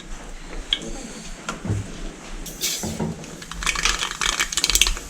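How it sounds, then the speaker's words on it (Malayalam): Mustard seeds pop in hot oil inside a cooker as a duck curry begins, a quick scatter of small, sharp crackles and ticks that grows busier and louder toward the end, heard up close. "അതിൻ്റെ അകത്തോട്ട് നമുക്ക് കടുക് പൊട്ടിക്കാം"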